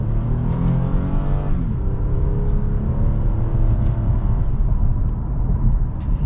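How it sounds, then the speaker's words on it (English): A Toyota Camry XSE V6 in sport and manual mode accelerates hard, its engine note climbing, dropping at a gear shift, then climbing again, heard loud from inside the cabin over road rumble. "So we're gonna get our acceleration here with the Camry V6"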